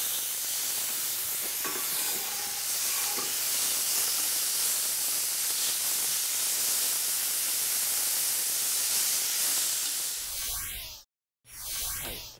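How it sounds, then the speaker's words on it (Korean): Meat with shiitake mushrooms stir-frying in a pan gives a loud, continuous close sizzle and hiss, broken by a brief cut near the end. "그래서 같이 표고랑 또 맛이 어우러지게 한번 볶아주세요"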